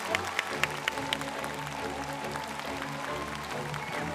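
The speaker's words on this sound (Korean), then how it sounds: "뜨거운 박수로 환영해 주시길 바랍니다." Audience applause at a Korean talk concert in a hall, welcoming a history lecturer to the stage; a steady wash of clapping runs the whole time, moderately loud with no voices.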